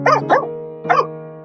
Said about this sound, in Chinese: 狗狗通过吼叫来告诉男主停车